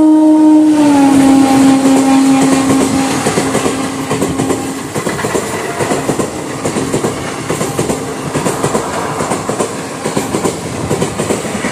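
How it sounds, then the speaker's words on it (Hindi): Udhyog Nagri Express (train 12174) pulling out of Kanpur Central railway station, opening with a loud, sustained horn blast that gives way to steady rumbling and rhythmic clatter of wheels over rail joints. "अपने तय समय 7:55 में अपने ट्रेन का डिपार्चर हो चुका है कानपुर सेंट्रल रेलवे स्टेशन से"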